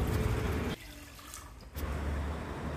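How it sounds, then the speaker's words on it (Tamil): Water is poured into a pressure cooker while preparing a vegetable stew, a steady close splashing stream that stops briefly and then starts again, with no talking. "2 கப் அளவுக்கு தண்ணி ஊற்றிக்கணும்."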